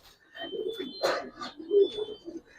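Young Giribaz and coloring pigeons coo close by in a few soft, throaty bursts with short pauses, alone in a quiet space.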